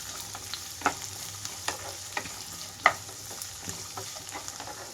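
Onions and green chillies frying in hot oil for an egg curry, a constant close sizzle broken by small pops and the light scrape of stirring, with no voices.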